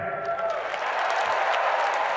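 A crowd applauds a line in a campaign speech, a steady wash of clapping and cheering that fills the short stretch at an even loudness.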